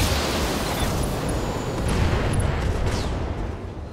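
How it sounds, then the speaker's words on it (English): An ammunition explosion rips through a machine-gun ammo bay on a damaged mech in the BattleTech video game, a dense rolling rumble of booms and crackling blasts that stays loud and sustained throughout before easing slightly at the end. "Looks like his MG ammo blew up."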